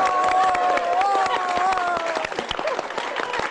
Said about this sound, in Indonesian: Coba sekarang tepuk tangannya, tepuk tangan orang sukses.